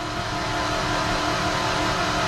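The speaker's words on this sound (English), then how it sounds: "you'll hear the engine start to pick up once it gets oil pressure" A turbocharged car engine, fitted with a rotated turbo kit, runs steadily and loud after starting, picking up into a rising rev as oil pressure builds, with a broad, rough mechanical roar throughout.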